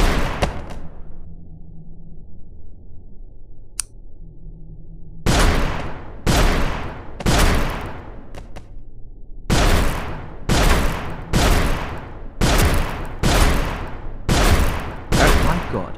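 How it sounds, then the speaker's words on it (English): Repeated gunfire in the Melon Playground video game while zombies are shot, about ten loud, evenly spaced bursts following a quieter stretch with a single early shot. "I just kill them with my gun, that would be so much faster"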